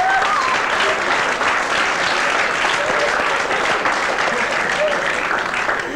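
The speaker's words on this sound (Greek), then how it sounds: "Βέβαια το χειροκρότημα δεν ήταν για αυτά που έλεγα εγώ, αλλά για τις γκριμάτσες που έκανε η Ελένη" Steady, dense audience applause at a fashion show, sustained and fairly loud throughout with no break, filling the room like a continuous wash of clapping.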